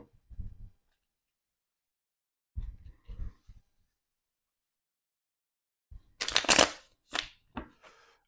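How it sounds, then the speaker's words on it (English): A deck of cards is shuffled in a few short bursts separated by silence, ending with a louder riffle and a couple of quick taps, close by. "I'm going to give the deck one quick shuffle for luck here"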